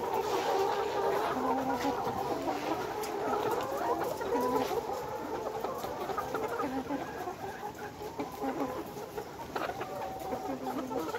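Nourish layer hens in a poultry farm cluck and cackle continuously, many birds overlapping at close range in a busy, restless chorus with no voices.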